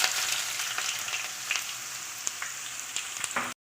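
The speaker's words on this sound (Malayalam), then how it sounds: "കടുകിട്ട് കൊടുക്കാം നീളത്തിൽ അരിഞ്ഞു വെച്ചേക്കുന്ന സവാള ഇട്ട് കൊടുക്കാം" Mustard seeds and long-sliced onions fry in hot oil for a chicken curry, giving a steady close sizzle scattered with sharp pops and crackles and no talking.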